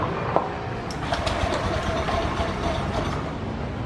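A Honda Beat scooter with a thick white-smoke fault runs its engine with a steady, dense drone close by, throttle held fairly constant with small fluctuations and a few faint clicks, no talking.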